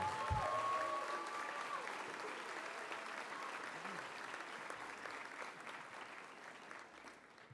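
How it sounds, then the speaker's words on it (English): A high school underclassmen awards ceremony audience applauds steadily for several seconds, a dense wash of clapping that fades slightly toward the end, with a brief faint voice at the start. "so let's give them a round of applause."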